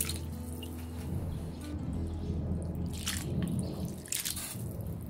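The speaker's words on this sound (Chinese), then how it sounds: "过个凉水。" Cooked vermicelli rinsed under cold running water: a steady splashing trickle with intermittent drips and sloshes, close by and continuous throughout.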